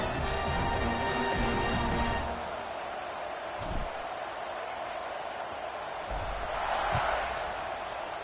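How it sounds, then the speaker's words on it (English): A football stadium crowd buzzes after a touchdown, a broad steady roar of many voices that swells and settles at a distance. "this crowd is buzzing after that last score"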